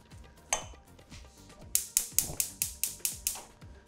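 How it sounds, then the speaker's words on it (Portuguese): A large cooking pan is handled on a kitchen stove, giving a single metallic clank and then a quick series of sharp, close clatters and knocks, with no talking. "E já vou aquecer uma panela grande."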